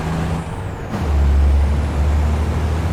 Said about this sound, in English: Let's just already hear those brakes there.